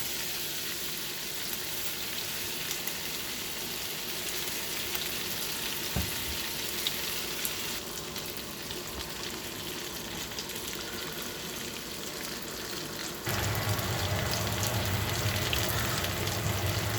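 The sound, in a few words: onions frying in a pan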